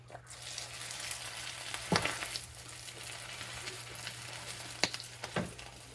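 Noodles dropped into hot oil, frying with a continuous soft crackling sizzle, punctuated by a few sharper bursts as they hit the oil and are pushed down, moderately quiet and close with no talking.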